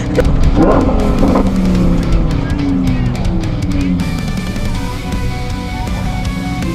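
Drag racing cars on an airport strip at Toutant Airport: loud, continuous engine roar with rising revs and shifting tones across the run, close and steady throughout, with faint voices underneath.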